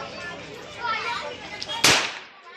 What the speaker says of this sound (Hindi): तो भाई मेरा फायरिंग करेगा।